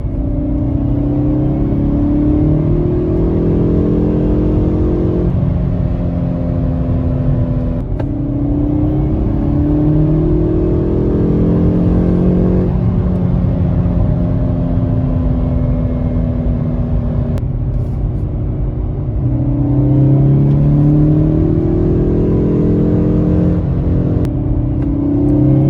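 Hyundai Veloster N engine rising again and again through hard launches in Eco, Normal, Sport and N drive modes, loud and close, each rising pull broken by brief shift dips, with no talk.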